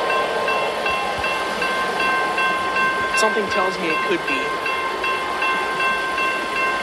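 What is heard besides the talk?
UP intermodal freight train moving past a road crossing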